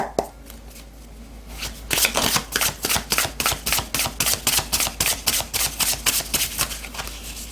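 Tarot cards being shuffled by hand: a steady run of crisp, rhythmic riffling bursts, close and fairly loud, starting after a short quiet lead-in and repeating evenly to the end.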